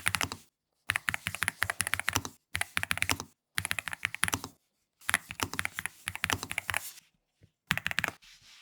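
Rapid bursts of typing on a NuPhy Gem80 mechanical keyboard with tactile switches, steady clacking keystrokes in several runs separated by short pauses, close and clear.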